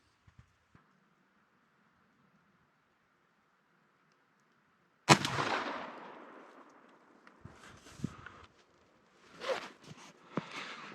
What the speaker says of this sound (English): So the first shot here is the Black Cloud TSS top barrel with the improved cylinder choke